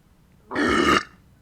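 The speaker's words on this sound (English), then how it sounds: "I need to burp, but I can't." A single loud, close burp lasting about half a second, deep and raspy, standing alone against a quiet room.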